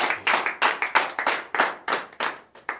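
A church congregation at morning prayer claps in a steady rhythmic beat, about a dozen crisp, loud group claps evenly spaced with no talking.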